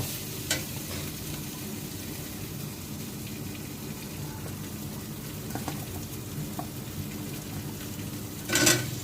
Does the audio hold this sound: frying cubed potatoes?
yes